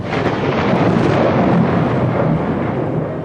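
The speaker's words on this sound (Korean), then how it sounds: "천둥 소리만 들리면" Deep rolling thunder sound effect in a Korean audiobook, a loud sustained rumble that swells and fades over several seconds with no voice over it.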